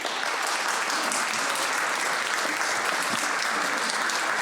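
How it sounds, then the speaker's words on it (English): Steady, dense applause from an audience in the California State Senate chamber, many hands clapping continuously at a fairly loud level throughout, with no voices standing out. "I'd ask that you please give them a warm welcome, a round of applause."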